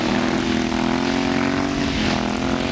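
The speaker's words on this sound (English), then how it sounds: "Things sound pretty good for old bikes." Vintage motorcycles, including an iron-cylinder 1000 Sportster Harley-Davidson and a Kawasaki, race on an ice track at LaPorte in 1994, giving a loud, steady engine drone that holds throughout with no break.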